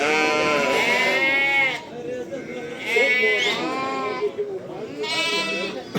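Lambs at a sheep market in Ganja bleating loudly and repeatedly nearby, long wavering cries overlapping against a busy background.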